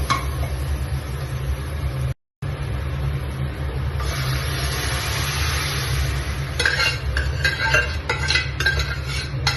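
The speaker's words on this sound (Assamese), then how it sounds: "এতিয়া আমি ইয়াত দালিখিনি ঢালি দিম।" Chana dal going into cooked spice masala in a hot pan, a continuous loud sizzle and scraping stir, with metallic clinks of a utensil growing busier toward the end.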